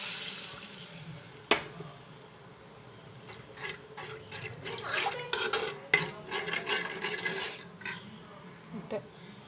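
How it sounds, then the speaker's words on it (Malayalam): Water is poured into a pan of chilli fish curry with red chilli powder, then stirred with a spoon that scrapes and clinks against the pot in quick bursts, close and fairly quiet. "നമുക്ക് ആവശ്യത്തിന് ചാറിനുള്ള വെള്ളം ഒഴിച്ചു കൊടുക്കും."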